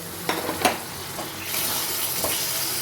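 Chopped tomatoes drop into a pan of frying spice masala for chicken patiala, with a few soft thumps and a steady, close sizzle that swells as they hit the oil.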